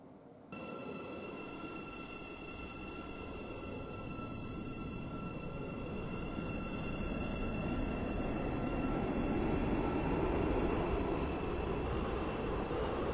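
A train in the Roblox video game runs steadily, its rolling rumble building gradually from near silence with a sustained electric whine above, heard alone without talk.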